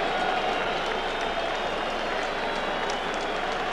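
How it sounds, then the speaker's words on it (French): Stadium crowd at a 1964 European Championship qualifier between France and Hungary, whistling and applauding as the French players come out: a steady, dense roar of clapping and noise, loud and continuous throughout. "Certains sifflent, d'autres applaudissent."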